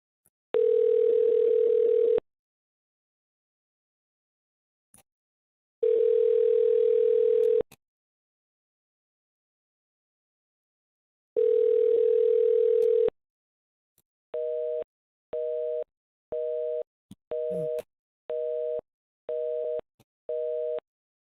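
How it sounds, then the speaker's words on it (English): A telephone line gives three long steady tones separated by silences, then a fast run of short repeated busy-signal beeps, clear and close with no talking over it. "what you hear could be a fake busy signal"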